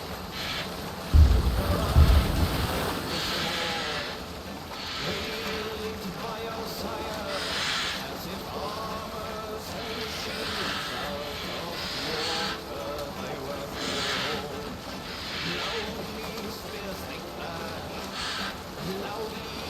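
A Viking longship sails in Assassin's Creed Valhalla, with a steady rush of wind and water swishing along the hull, a louder splash near the start and voices talking over the sea.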